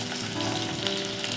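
Onions and green chillies sizzle loudly in hot oil after mustard seeds go in, a dense, steady frying hiss heard close up with no talking.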